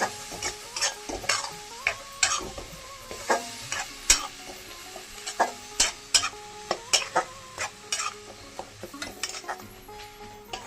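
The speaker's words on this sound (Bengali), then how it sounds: "পেঁয়াজ বাটাটা দিয়ে দিচ্ছি, ভালো করে কষিয়ে নিচ্ছি।" Onion paste frying and being stirred in a pan for an egg and cauliflower curry with peas, with a steady sizzle under repeated scraping and clinking strokes of the spoon against the pan, close and fairly loud.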